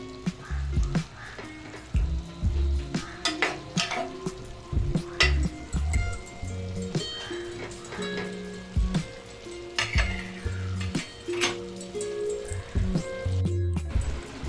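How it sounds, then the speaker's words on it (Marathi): Tur and brinjal curry with a thin gravy simmers and bubbles in a pan, making close, irregular popping and sizzling with occasional utensil knocks, heard alone without talk. "आता ही भाजी आपण 3 ते 4 मिनिटं अशी शिजवून घेतली आहे"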